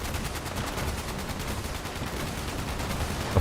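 Rapid automatic gunfire from a weapon in the video game Fallout 76, a dense sustained burst of shots running steadily and loudly through the whole stretch with no talk.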